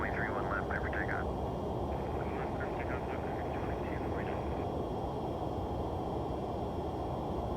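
A steady, loud jet roar from an MD-11F taking off in the X-Plane 12 flight simulator fills the whole clip, with brief faint radio-like chatter heard over it early on.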